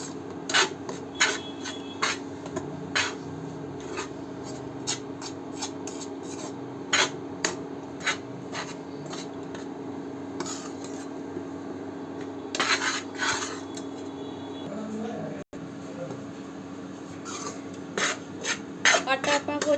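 Flour is dry-roasted over low heat in a kadai and stirred, giving repeated scraping and rasping strokes of a utensil against the metal pan, some louder than others, above a faint steady hum.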